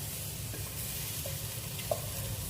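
Chilies are dry-roasted in a pan, giving a quiet, steady sizzle with soft stirring scrapes and a small clink near the end, heard alone without talk.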